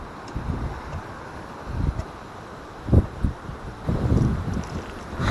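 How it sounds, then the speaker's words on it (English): Wind gusts buffet the microphone in low rumbling bursts, rising and falling unevenly against a steady outdoor background. "Stand by, it's windy."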